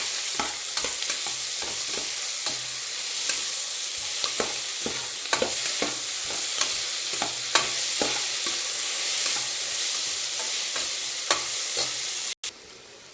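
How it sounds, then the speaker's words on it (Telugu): Onions, green chilies and ginger paste frying in a pan over medium flame, a steady close sizzle broken by regular scraping stirs, with no voices. "చూడండి ఫ్రెండ్స్, ఎలాగ వేగుతున్నాయో."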